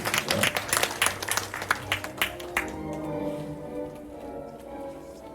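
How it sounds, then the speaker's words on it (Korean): An audience at a reading essay award ceremony applauds with a burst of brisk clapping that fades out after a few seconds, leaving a quiet room murmur. "예, 박수 부탁드립니다."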